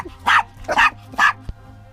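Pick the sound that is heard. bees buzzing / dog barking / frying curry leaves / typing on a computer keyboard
dog barking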